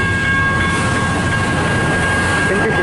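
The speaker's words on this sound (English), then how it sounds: "Here's one train, we got to see it." CN 533, a northbound local freight train in Richmond, Michigan, rolls past up close, making a loud, continuous rumble with steady ringing tones layered on top throughout.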